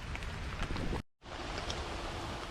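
Rain falls outdoors on the Fourth of July, a steady soft hiss of drops that cuts out briefly near the middle before resuming at the same level.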